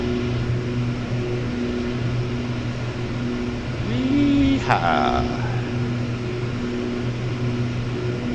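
OV-10 Bronco climbing out after takeoff in DCS World, a steady droning turboprop hum holding throughout, with a brief rising whine and tonal swell midway.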